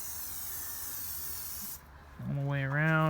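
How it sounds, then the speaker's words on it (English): Tire dressing sprayed onto car tires during detailing, a steady hiss that runs for almost two seconds before cutting off, followed by a voice speaking close by. "All right, spray the tires"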